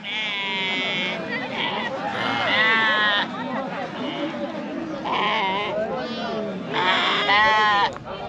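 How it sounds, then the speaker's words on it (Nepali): Sheep bleat repeatedly amid a crowded temple pilgrimage site in Thabang, Nepal, loud wavering cries rising over people talking nearby. "भेडाहरू"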